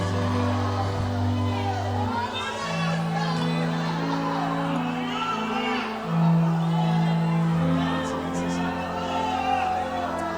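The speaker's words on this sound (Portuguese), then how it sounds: "Quem pode aplaudir, gritar e dar um pulo para cima?" Church congregation cheering and shouting at an emotional Pentecostal service, a dense continuous crowd roar with whoops and yells, loud and sustained throughout, with musical tones underneath.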